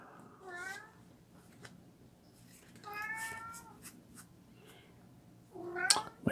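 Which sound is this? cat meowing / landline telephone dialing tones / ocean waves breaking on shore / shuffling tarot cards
cat meowing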